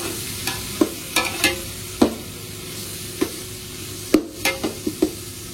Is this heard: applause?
no